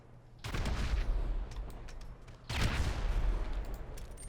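Bombs raining down in GTA 5, two heavy explosive bursts a couple of seconds apart, each a loud broadband blast trailing into a rumbling roar, close and alone without talk.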